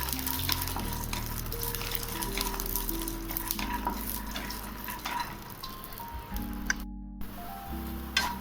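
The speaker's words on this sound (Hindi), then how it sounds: "तो तेल अब हो गया है गरम। तो चलिए यहीं पे डाल देते हैं मूंगफली के दाने। तो चलिए इसे थोड़ी सी रोस्ट कर लेते हैं।" Peanuts roast in hot oil in a pan, giving a steady crackling sizzle with scattered pops and occasional stirring scrapes, close and moderately quiet, with one brief break before the frying resumes.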